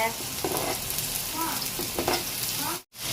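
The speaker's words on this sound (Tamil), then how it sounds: "தக்காளி போட்டுக்கோங்க நல்லா கிளறிக்கோங்க" Onions and tomatoes being stirred as they fry in a pan for kothu parotta, a steady sizzle broken by soft scraping strokes of a spoon, close and fairly quiet, with a brief dropout near the end.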